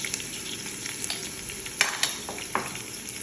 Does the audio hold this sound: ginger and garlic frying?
yes